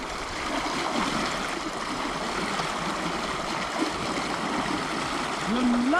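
A strong river current rushes steadily in a broad, constant wash of flowing water outdoors, with a brief whistle-like sound near the end.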